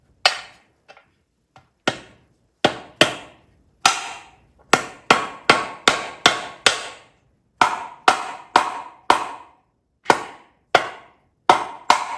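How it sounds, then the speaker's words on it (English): Sharp hammer taps driving a new seal into a Chevy small block 350 engine, about twenty crisp metallic blows in irregular bursts, close and loud with silence between strikes. "I'm gonna go ahead and tap this new seal into here."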